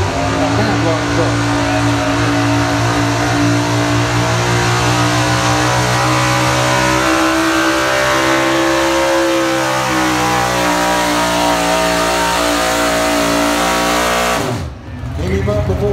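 Pulling truck at a truck and tractor pull, its engine roaring loud and close under an announcer's voice, the pitch rising steadily as it pulls, then cutting off abruptly near the end.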